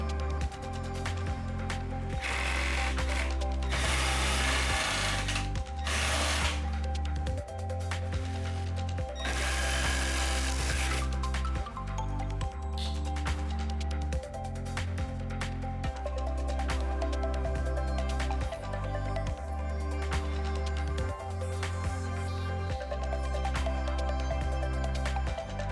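A power tool cuts into a vehicle grille for a Siberia LED bar install, whining loudly in repeated bursts with rhythmic stops and starts and harsh gritty surges from the cutting.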